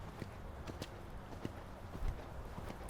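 Horse hooves cantering during show jumping training, with soft repeated hoof thuds in an irregular three-beat rhythm on a moderately distant arena surface, under a low background hum.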